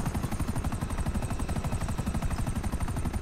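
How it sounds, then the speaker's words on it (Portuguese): Helicopter in GTA 5 roleplay, a close, loud rotor chop beating in a fast steady rhythm throughout with no talk over it. "chama atenção que esse helicóptero pra vazar daqui, velho"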